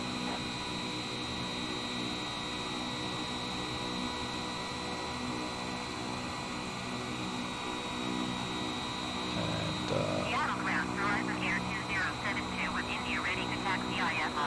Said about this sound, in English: the other plane's got the engine starting up, which is just great